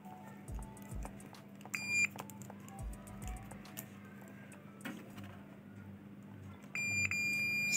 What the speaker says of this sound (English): You can hear buzzer.